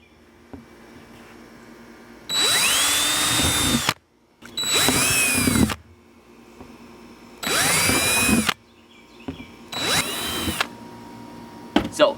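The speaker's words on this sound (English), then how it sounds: "I picked a drill bit that's about the same size as the holes" A power drill with a bit sized to the marked spots bores drainage holes in a plastic plant pot for a patio herb garden. Four loud, close whirring bursts with short pauses between them, then a brief final buzz.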